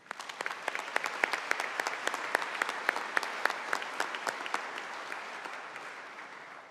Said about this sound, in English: Join me in a round of applause for the donors who make these programs possible.